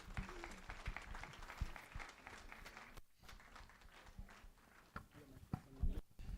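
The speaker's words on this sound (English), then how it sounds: "Please clap facing them and let them go." An audience at an early childhood development conference opening ceremony claps for the children, a sustained patter of applause mixed with voices and scattered louder claps.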